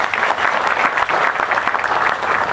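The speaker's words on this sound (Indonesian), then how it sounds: "Tepuk tangan untuk dia." A seated crowd at a Kenduri Cinta gathering breaks into loud, dense applause, a continuous clatter of many hands heard up close for a couple of seconds.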